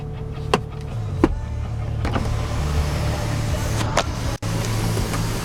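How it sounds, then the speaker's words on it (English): Electric one-touch sunroof on a 2011 GMC Sierra Denali 4x4 opening with a steady motor whir inside the cab, punctuated by a few soft clicks and a thump, with no talk. "One touch sunroof open."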